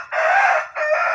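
A roughly 4.5 kg, twelve-month-old Peruvian breeding rooster crows loudly at close range. It gives one strong drawn-out crow, breaks off briefly, then starts a second.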